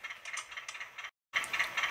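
Cab window sound effect from a PIKO HO scale Whitcomb 65-ton USATC diesel locomotive model: a quick mechanical ratcheting clatter, a short silent gap, then more rattling clicks.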